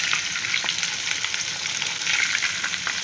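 Bran-coated liver fries in hot oil with a loud, dense, continuous sizzle that stays even throughout, with faint stirring touches underneath. No speech.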